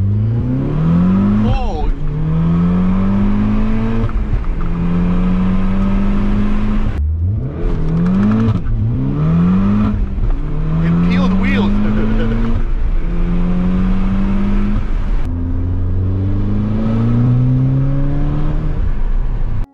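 A Volkswagen Golf R on a test drive with new wheels and new tail lights fitted, its engine loud and steady, repeatedly revving up through rising gear pulls with brief dips between shifts, heard close from inside the car.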